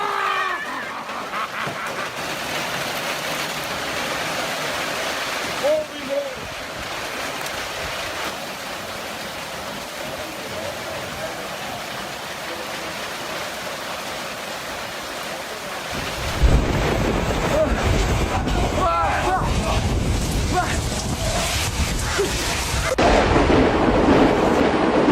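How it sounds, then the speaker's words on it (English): Violent storm at a Saskatchewan campground strong enough to knock down trees: loud, continuous wind roaring and buffeting the microphone, growing harsher and more intense partway through, with no voices. "A family had to seek shelter when a violent storm knocked down trees at a campground in"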